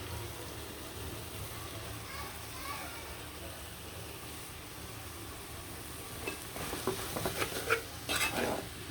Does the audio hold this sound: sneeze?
no